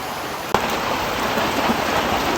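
Rain falling during a short stretch, heard as a steady, dense wash of hiss that continues after a sharp click near the start, with no voices.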